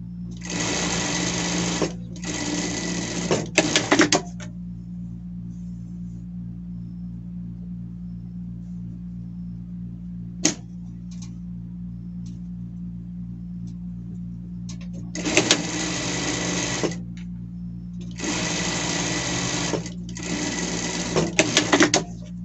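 A sewing machine topstitching a small denim shirt for a pet runs in several loud bursts of rapid stitching, separated by pauses in which a steady low motor hum continues underneath.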